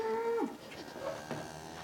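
Cattle moo loudly and close by as cows come out of a pen on a farm, one long low call followed by fainter lowing and shuffling in the background.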